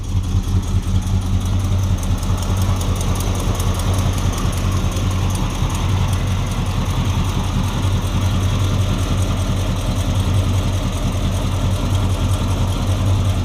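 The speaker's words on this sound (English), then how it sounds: "She's idling nice and smooth." A 1973 Oldsmobile Hurst engine idles steadily, a deep, even rumble with a smooth pulsing exhaust note that runs loud and close throughout with no talk over it.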